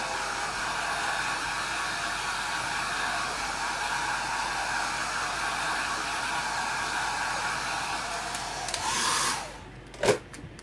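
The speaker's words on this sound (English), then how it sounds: "So I'm just giving this a real good extra drying." A hair dryer gives a layer of chalk paste an extra drying, roaring steadily up close before it winds down and clicks off near the end.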